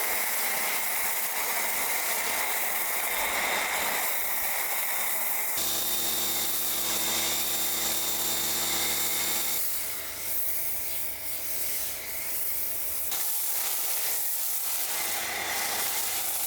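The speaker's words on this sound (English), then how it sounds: "I'm just going to hit it straight with the GYEON Foam" GYEON Q²M Foam pre-wash hisses out of a sprayer onto a dry car in a loud, continuous spray, broken into several long passes with brief shifts in pitch between them.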